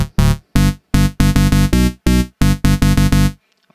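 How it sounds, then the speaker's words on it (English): Electro bass synth patch built in FL Studio 9, a loud, buzzy bass stabbing out short rhythmic notes with abrupt gaps between them, some notes held slightly longer, playing alone. "now the bass sounds like this."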